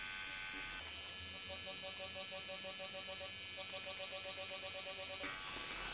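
Steady electric buzz of a tattoo machine needle shading a realistic skull, humming close and constant with a faint pulsing rhythm, beginning and ending abruptly.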